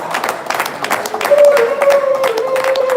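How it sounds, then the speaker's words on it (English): An audience at an Igbo unification conference applauds arriving guests, a dense ongoing clatter of many hands under a voice and a sustained tone. "Please give them another round of applause"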